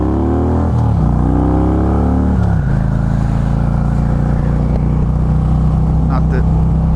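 A group of Harley-Davidson motorcycles rides past on the road, loud engine drones sweeping by close with falling pitch, one after another, then a steady rumble continuing.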